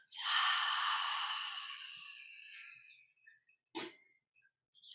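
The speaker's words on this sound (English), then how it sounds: "Cat sneezes." A cat's single sharp sneeze close by, hissing and breathy, trailing off, followed a moment later by a short snorting puff.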